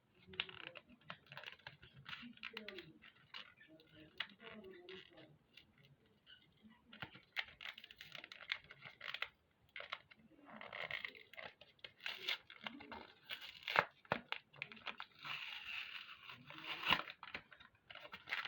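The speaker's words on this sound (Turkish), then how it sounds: "Şimdi bunu makasla açacağım." Crinkly plastic packaging of a strawberry lip balm rustles and crackles close by as scissors cut it open, with irregular snips and tearing sounds, no voices.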